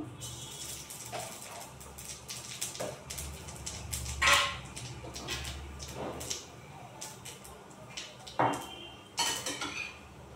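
A pot of chalta chutney set on a stove with a dry chilli and five-spice tossed in, giving scattered close clanks of metal cookware and utensils with a few louder clatters over quiet room noise.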